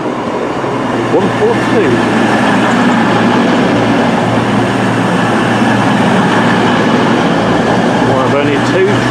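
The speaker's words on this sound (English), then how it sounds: "Here comes the 8:39 Virgin Supervisory Service to London Euston." A Virgin train bound for London Euston rumbles through Crewe station, a loud continuous rolling roar with faint clicks beneath someone talking throughout.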